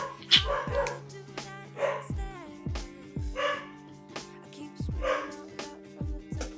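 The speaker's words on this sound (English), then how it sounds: "And my dogs are going crazy." Several dogs barking and yipping indoors in repeated bursts at a moderate distance, with whimpers between barks over a steady background hum.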